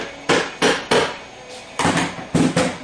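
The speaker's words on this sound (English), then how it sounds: "Sometimes you can get it behind it and just give it a whack." Hammer blows striking a racing Powerglide transmission to knock the pump loose, seven sharp metallic whacks delivered close up, the first three evenly spaced, then a pause and four more, with no talking.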